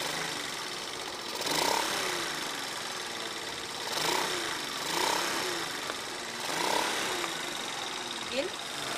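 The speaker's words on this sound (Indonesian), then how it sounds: "Motor kenapa sih ya? Tapi udah diservis." A recently serviced motorbike engine idles roughly with an uneven, knocking putter, its revs swelling and dropping in a few slow surges.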